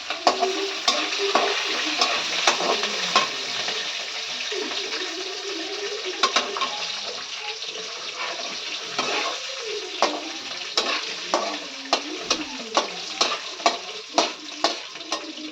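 Green chillies fry in a pan under a steady sizzle while a spoon stirs and scrapes, tapping sharply against the metal in a quickening series of knocks toward the end.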